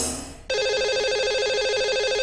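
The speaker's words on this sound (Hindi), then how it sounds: "जिसे हमारी टीम कॉल लगाती है" A telephone on a call-in astrology show starts ringing after a short faded lead-in, a loud steady electronic ring tone that holds continuously to the end.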